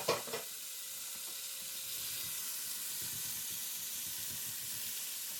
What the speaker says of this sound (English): what I'll do is I'll pop in the tomatoes first